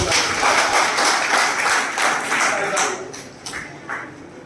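An audience at a gathering in Malegaon claps steadily, a loud, close patter of many hands that fades slightly toward the end.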